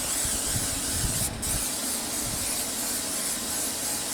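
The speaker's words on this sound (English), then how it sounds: "I'm going to take my butter spray" Butter spray hisses from an aerosol can into a baking pan, a close, continuous spray with a brief break partway through, over a steady background rush.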